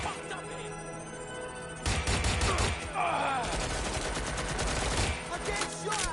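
Dense video game gunfire from Watch Dogs, rapid automatic bursts and a steady fusillade with crashing impacts, loud and continuous, with voices mixed underneath.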